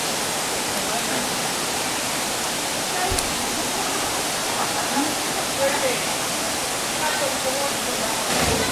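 Continuous broadband rush of Big Crystal Creek waterfall in Australia, heard near its top, loud and steady, with faint voices barely audible beneath the roar.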